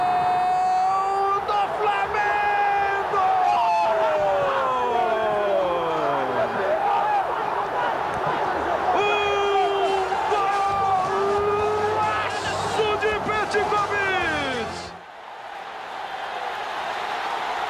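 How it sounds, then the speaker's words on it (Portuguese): Flamengo fans at the Maracanã roar after Petkovic's free-kick goal, a dense, loud stadium crowd with sweeping chants and whistles that holds steady and then cuts off abruptly near the end. "A reação da torcida do Flamengo fazendo a corrente."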